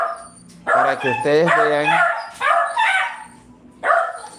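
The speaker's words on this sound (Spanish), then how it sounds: "Una disculpa por mi perrita que está haciendo bulla." A small female dog barks and yips repeatedly close by, its sharp bursts overlapping someone speaking Spanish, with a final bark after a short pause.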